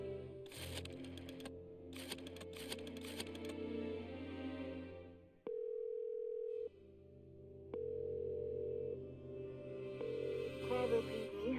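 Telephone sounds in the Chicken Police video game: a few rapid keypress clicks over a low hum, then two steady sustained dial tones separated by a short gap, fairly quiet with no voices.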